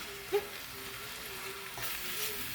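Soft continuous sizzling of spinach frying in a skillet, steady and close, with a faint brief tone near the start and no talking.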